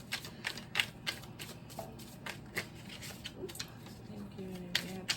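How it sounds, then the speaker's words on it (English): Repeated crisp papery riffles and snaps of tarot cards being shuffled, close and fairly quiet, in uneven bursts with faint room noise between. "I'm gonna shuffle again."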